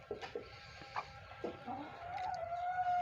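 Soft hen clucks and faint peeping from day-old chicks gathered under her, close by, with a quiet background and no speech.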